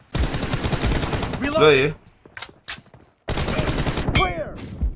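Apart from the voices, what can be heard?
gunfire in a mobile shooter video game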